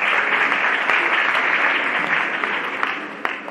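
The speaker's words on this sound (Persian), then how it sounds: "تشویق بفرمایید." Steady, dense applause from a concert audience at a music school recital, filling the room at an even loudness from start to finish with only slight fading near the end.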